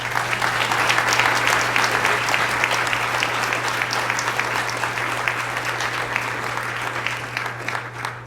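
Sustained applause from a large crowd, steady and dense throughout, with a low constant hum underneath.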